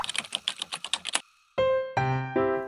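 Quick, crisp keystrokes on an RK98 mechanical keyboard with red switches clatter in a rapid run for about a second, close and clear, followed by a few sustained electronic tones.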